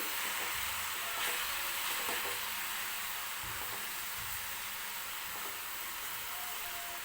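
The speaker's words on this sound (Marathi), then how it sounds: "मी हे सारण जे आहे ते मिक्स करणार आहे" Jaggery filling for modak being stirred in a pan, a steady soft sizzling and scraping hiss that runs continuously at moderate level with no talk.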